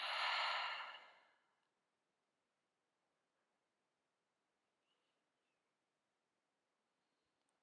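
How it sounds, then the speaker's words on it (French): A single loud, close breath is pushed out through the mouth during a hatha yoga arm-strength session. It fades within about a second and a half and is followed by near silence. "Prendre une grande inspiration par le nez et on expire par la bouche."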